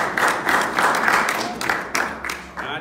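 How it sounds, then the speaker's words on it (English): A crowd at a religious address applauds in repeated bursts of clapping that swell and fade, fairly close and loud, with a few voices mixed in. "Give yourselves a round of applause"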